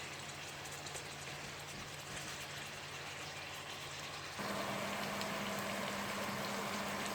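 Chicken burger patties frying in a pan, a steady broadband sizzle that holds unbroken for the whole stretch and grows slightly louder partway through, with no talking.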